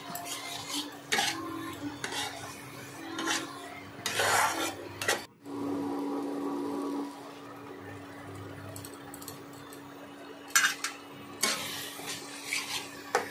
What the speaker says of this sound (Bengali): নাড়াচাড়া করে এদিক ওদিক করে ভাজলাম।